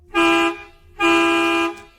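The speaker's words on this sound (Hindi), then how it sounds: "मैंने फिर एक दो बार हॉर्न भी बजाया" Two long, loud car horn blasts, a short toot followed by a longer sustained honk, with a brief gap between them.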